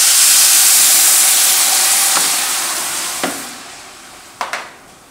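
Dry white wine poured into a hot osso buco pan hisses and sizzles loudly and steadily as it reduces, the steam fading slowly, with a few soft clinks of stirring near the end.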